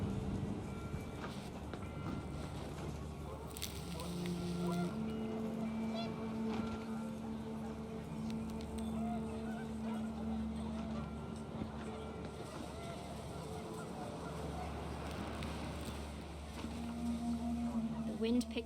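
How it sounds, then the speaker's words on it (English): Geese honking in What Remains of Edith Finch, scattered repeated calls over a steady wind and rumbling game ambience, moderately loud throughout. "The wind picked up, and panicked geese appeared and quickly went."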